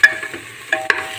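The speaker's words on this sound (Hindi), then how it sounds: "इसे मसाले को भूनें।" Spice masala for chickpea curry frying in a pan, with a few sharp spatula clinks and scrapes over a low, steady background sizzle, brief and close.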